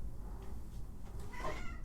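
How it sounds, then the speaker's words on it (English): A house cat meows once around the middle of a short indoor moment, a brief tonal call rising over low room rumble, fairly close but not loud. "She's been such a good cat, and I worry that I'm not letting her live the true cat life."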